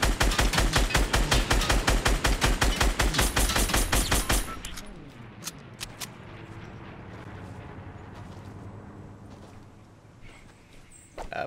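Rapid automatic gunfire from a video game rattles loudly for about four seconds, then gives way to quieter scattered game sounds and background noise.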